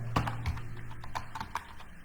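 Typing a web address on a computer keyboard, a handful of sharp, close key clicks tapped at an uneven pace over a faint steady hum.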